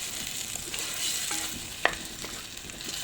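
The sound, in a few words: stirring canned tomatoes in a pot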